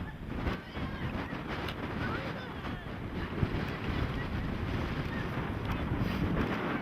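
Strong wind roars and buffets the microphone in a steady rush, with a faint watery wash underneath throughout.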